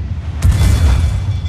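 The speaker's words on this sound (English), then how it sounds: "You can now fire the mortar at long range." A single deep, booming mortar cannon shot fires from a sailing ship in Assassin's Creed 4, a heavy thud with a rumbling tail under steady background noise.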